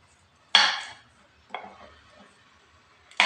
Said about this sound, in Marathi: ही दोडकी मी आता चिरून घेते